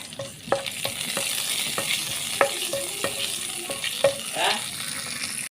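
Fennel seeds crackle and sizzle in hot oil while a spoon stirs them, with repeated sharp scraping knocks against the pan over a continuous close frying hiss and no talking.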